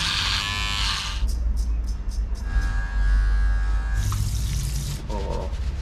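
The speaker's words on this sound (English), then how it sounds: "So I want a clean shave" An electric razor buzzes steadily and loudly up close during a clean shave at a barber shop, its hum shifting in pitch, with water-like hiss at the start and brief voices near the end.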